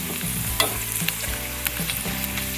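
Pork fat and pork skin sizzle and crackle as they fry in a small amount of oil. Loud, close bubbling continues steadily, broken by sharp pops and the scrape of stirring.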